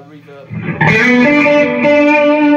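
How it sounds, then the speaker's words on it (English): A guitar played through Victory V30 and V40 amps with a long reverb effect: a quiet note swells into loud, ringing sustained chords that wash on and trail out. "reverb."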